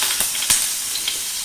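Butter sizzling in hot oil in a cooking pan for butter garlic eggs, a steady close frying hiss with a few small pops and crackles, no voices.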